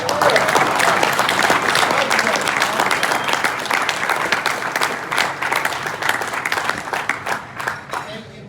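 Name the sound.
audience round of applause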